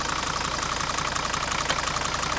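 The diesel engine of a rusty 1980 Mercedes W123 300D idles close by with the oil cap loosened, giving a steady, rough clatter with a faint knocking rhythm and no talk.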